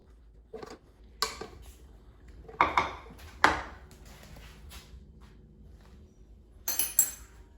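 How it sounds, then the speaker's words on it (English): Cooked quinoa from a rice cooker is spooned into a serving dish, with faint scattered clinks and scrapes of utensil against cookware separated by quiet pauses. "So let's transfer it to the serving dish."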